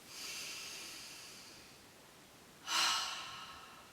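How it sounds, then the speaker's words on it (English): A slow, deep breath during a home yoga session: a soft drawn-out inhale, a pause, then a louder breathy release, close and alone in a quiet room. "And again, nice big breath."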